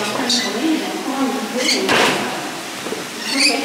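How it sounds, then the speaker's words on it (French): A door closing behind visitors stepping into a rainbow lorikeet enclosure at a crocodile farm gives a short sliding thud midway, heard under people talking and bird chatter nearby. "On ferme bien la porte derrière nous."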